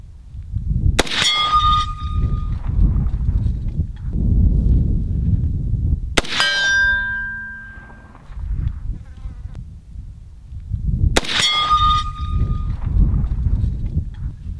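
An ARAK-21 hybrid rifle fires at steel targets outdoors. Three loud gunshots come several seconds apart, each followed by a ringing metallic clang from the plates, with low wind rumble in between.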